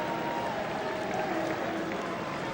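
Rugby supporters at Batley cheer and applaud their side after a 26–18 victory over Toronto, a steady wash of crowd clapping and murmur with a faint whistle-like tone over it.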